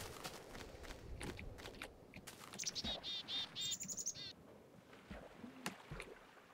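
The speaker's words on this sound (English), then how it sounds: "you can hear the waves on the beach. There's friggin' trees over here with birds in them." Ambient Minecraft Tekkit game audio: soft, continuous wave-like noise on a beach under a series of short, bright bird chirps and tweets from nearby trees, with no talking.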